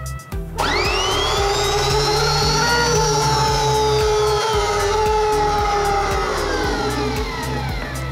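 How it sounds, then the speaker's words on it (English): A snow plow motor runs straight off a battery on a test bench, starting with a sharp spin-up and then holding a loud, steady whirring whine that rises and drifts slightly, close and alone with no talk. "You can hear your motor running there."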